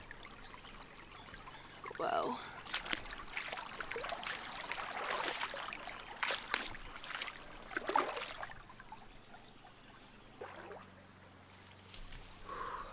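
River water flows and trickles along a riverbank on a hot day, a steady close wash of running water rising and falling, with a person speaking briefly over it.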